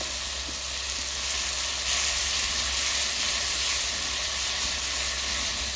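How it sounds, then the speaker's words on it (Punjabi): Chopped onion, garlic and green chili fry in a pan for stuffed bitter gourd curry, giving a loud, steady sizzle with constant hissing crackle and no voices. "ਹੁਣ ਵੀ ਪਾਏ ਆਪਾਂ ਇਹ ਚੌਪ ਕੀਤੇ ਹੋਏ ਪਿਆਜ਼ ਲਸਣ ਤੇ ਹਰੀ ਮਿਰਚ"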